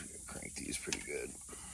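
Short bursts of ratcheting, creaking mechanical clicks as spoke nipples on an old-school GT bicycle wheel are cranked tight, close up and moderately quiet.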